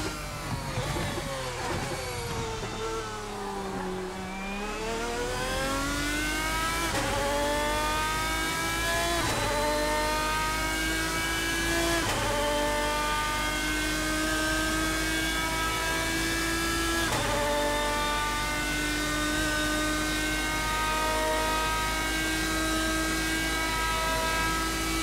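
GT race car engine in Assetto Corsa at Le Mans, droning loud and steady as it climbs through gears with repeated rising pitch sweeps and brief dips at each shift, no talking.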